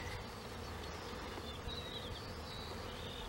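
Bees buzzing on flowering Ceanothus concha among native California plants in spring: a faint, continuous insect hum with thin drifting whines as individual bees fly near and away, no voices.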